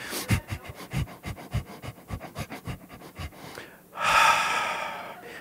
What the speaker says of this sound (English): I would like for you to pant through your nose